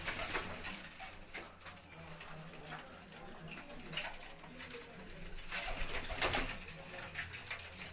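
Champion racing pigeons on a rooftop loft coo in soft repeated bursts, joined by scattered calls and brief wing flutters, with a louder flurry near the end over steady outdoor background.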